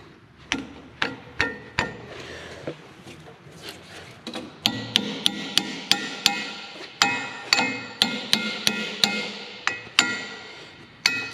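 A 2.5-inch Harbor Freight bushing driver is hammered into a bushing on the undercarriage of a Deere 700J dozer, about two dozen sharp metallic blows in quick, uneven bursts, loud and close, with no talking.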